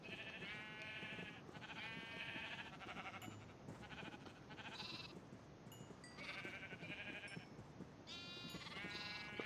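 Several sheep bleat over and over in Minecraft, overlapping wavering cries above a busy, steady background hum, with no voices.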